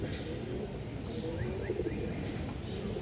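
Silver khaki pigeons cooing softly in a loft, low murmuring coos under a steady background hum with a few faint chirps, no talk.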